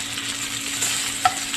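Hilsa fish pieces frying in hot oil, giving a soft, steady sizzle with a few faint clinks, heard alone without talk.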